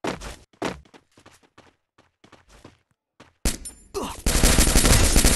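Gunfire in the mobile game Free Fire: a few quiet thuds, then a loud, dense burst of rapid shots that builds into sustained heavy fire at the end.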